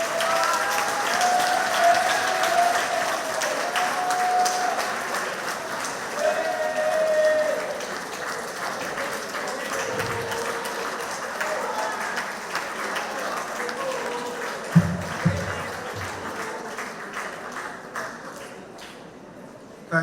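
Sustained applause from an audience at a community centre monthly meeting, with a broad wash of clapping that gradually thins out, and some voices and bumps mixed in.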